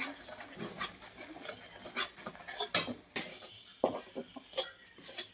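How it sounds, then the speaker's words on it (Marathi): A spoon stirs besan (gram flour) batter in a bowl, making irregular clinks and soft scraping taps in an uneven rhythm, fairly quiet and close. "एक छोटा चमचा घालायचा आणि हे असं बेसन आपण हलवायचंय"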